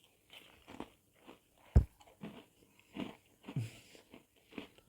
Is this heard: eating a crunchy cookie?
yes